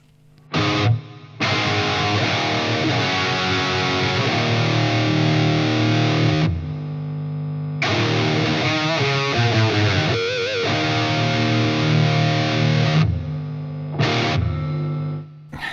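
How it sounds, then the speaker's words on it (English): An electric guitar runs through a distortion preamp pedal into an already distorted amp, playing loud, saturated chords and riffs in two long sustained passages with short gaps between them and no talk. "What would happen if we put a distortion amp-like preamp pedal into already distorted amp?"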